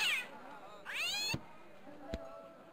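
A cat in the point-and-click adventure game Broken Sword (Baphomets Fluch 1) Director's Cut gives two drawn-out, rising meows close by, followed by a short sharp knock and quiet background.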